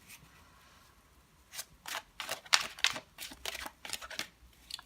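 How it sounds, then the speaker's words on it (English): Tarot cards being shuffled by hand, soft papery riffles and flicks in irregular bursts, quiet at first and then busier and louder up close, with no talk. "So I like to just pick my cards intuitively whenever I feel ready to pick one. Until then, I just keep on shuffling"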